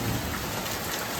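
Heavy rain with hail pounding down during a thunderstorm, a dense, steady roar close by with no pauses or voices.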